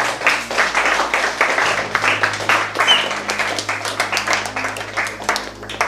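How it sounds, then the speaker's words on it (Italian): Uneven clapping from a group welcoming guests at a civil protection youth adventure camp on an island, a moderately loud patter over a low steady hum. "facciamo un applauso ai nostri ospiti che vediamo qui"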